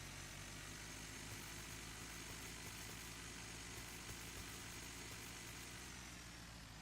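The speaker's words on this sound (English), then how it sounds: "It even sounds like a real tractor" A tractor engine idles steadily in the video game Dinkum, a low continuous rumble with constant vibration that holds at an even level throughout, with no pauses or revving.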